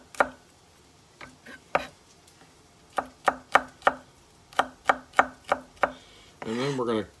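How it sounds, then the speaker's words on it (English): Knife chopping garlic on a cutting board for a homemade tomato and onion pizza, a run of sharp, evenly spaced thuds in uneven bursts, close and clear, ending with a brief scraping sweep. "So we're going to give these first a rough chop."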